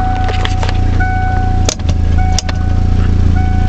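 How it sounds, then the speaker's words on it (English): A vehicle drive shaft spins a free wheel on a transmission under test, giving a steady low mechanical drone with a faint whine and two brief dips as braking is applied, close and continuous. "It's the drive shaft still spinning the other wheel."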